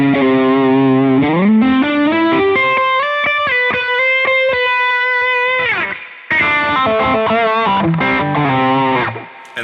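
Guitar played through an Eventide H9 pedal running the Sculpt post-gain distortion with its low boost: loud, saturated sustained chords and held notes, a brief dip near the middle, then more chords, no voices.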